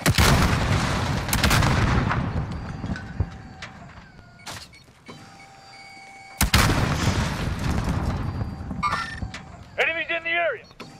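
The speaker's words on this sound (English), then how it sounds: "Sentry gun active." Heavy video-game gunfire from a deployed sentry gun fills the scene in loud, booming bursts, then a lull, then another long barrage, ending with short electronic chirps and game voice callouts.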